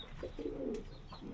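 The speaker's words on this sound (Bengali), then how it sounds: "দেখুন পায়রাটা পাঞ্জাবি পায়রা" Punjabi pigeons in a cage give soft, low, close cooing calls, a couple of rolling coos with a short pause between them over quiet background.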